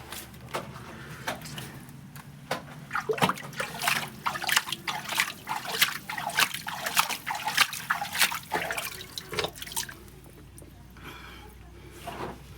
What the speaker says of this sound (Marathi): येथे झरा थंड आणि गरम पाण्याचे ठिकाण असून स्वच्छ पाणी पिण्यासाठी पण येथे वापरतात.